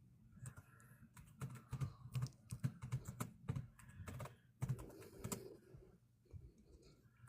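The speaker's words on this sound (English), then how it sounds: "Hold on, I was typing." Rapid clatter of typing on a computer keyboard, close and fairly quiet, in irregular bursts of keystrokes with short pauses between them.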